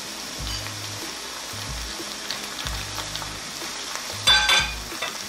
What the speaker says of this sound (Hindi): इसको मुझे फ्राई करते हुए 5 मिनट हुए हैं प्याज़ों के साथ